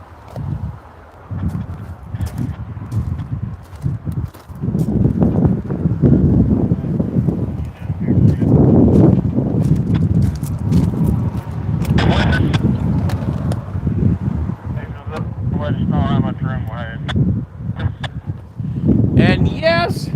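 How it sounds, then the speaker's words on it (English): Gusty wind buffets the microphone at a railway trackside, producing low rumbling blasts that rise and fall over about twenty seconds while a person talks intermittently. "And yes, is it ever windy?"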